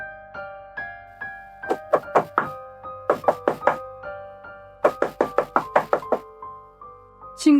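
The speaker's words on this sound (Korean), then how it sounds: "친구가 문을 두드리지만 안에서 응답이 없었고" Several bursts of quick knocking on a door, in groups of two to five raps, with tonal background music sustained underneath and no voices.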